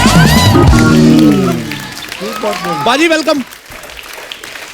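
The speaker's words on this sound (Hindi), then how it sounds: "एक बार जोरदार ताली अक्षय बाजी के लिए।" A studio audience applauds a celebrity guest on a television comedy talk show. The clapping is a noisy wash underneath loud overlapping voices and laughter that dominate throughout.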